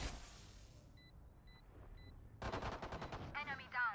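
Video game shooter gunfire, a burst of rapid automatic shots ringing out after a quieter stretch, followed by a few more shots with a metallic whine, mixed with game sounds.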